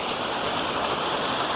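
Waterfall at Fairy Glen, Appley Bridge, with clear water rushing in a steady, dense broadband roar, close and constant throughout.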